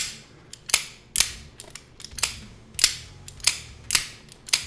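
A Hawk Knives Talon knife snapped open and shut again and again, about a dozen sharp metallic clicks in a brisk uneven rhythm, close and crisp, with no talking.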